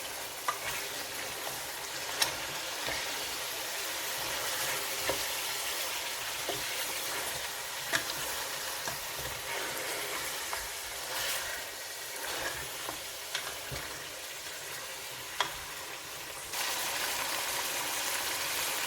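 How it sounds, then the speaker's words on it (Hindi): Ginger garlic paste fries for haleem in a pot, a steady loud sizzle broken by occasional scraping clicks of a spoon being stirred through it, with no voices. "अब हम इसमें जिंजर और गार्लिक पेस्ट ऐड कर लेंगे और इसको मज़ीद भूनेंगे।"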